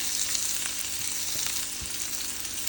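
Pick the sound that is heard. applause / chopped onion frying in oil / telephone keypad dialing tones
chopped onion frying in oil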